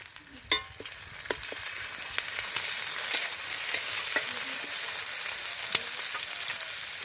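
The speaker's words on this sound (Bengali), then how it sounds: "দিয়ে দিলাম তেলের মধ্যে পেঁয়াজ কুচি পেঁয়াজটা একটু নাড়াচাড়া করে নেব দিয়ে রসুন বাটা" Chopped onion and garlic paste sizzle steadily in hot oil after bay leaf, with a spoon scraping and stirring through the pan in scattered sharp clicks, close and fairly loud, with no talk over it.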